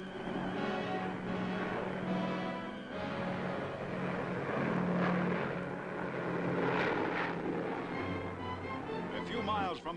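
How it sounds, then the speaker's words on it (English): American military planes patrolling overhead above bomb-damaged Japan give a continuous droning engine roar that swells and fades slightly throughout, while a voice talks over it. "Overhead, American planes patrol."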